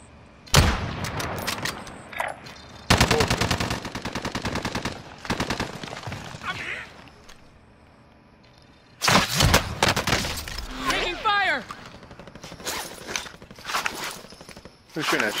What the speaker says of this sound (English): Who's shooting at you, Soap?